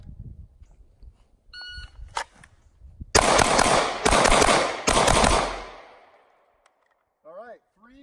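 A rapid string of loud gunshots from a pistol shooting drill on multiple targets, fired in a dense burst of about two seconds after a few quieter beeps and thumps, then fading into ringing decay before brief voices.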